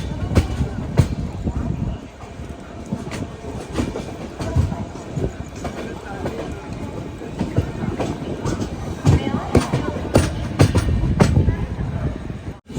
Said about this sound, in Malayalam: ഇപ്പോൾ മംഗളൂരു റെയിൽവേ സ്റ്റേഷനിൽ കറക്റ്റ് 8:05 തന്നെ കാച്ചിഗുഡ എക്സ്പ്രസ് എടുത്തിരിക്കുകയാണ്.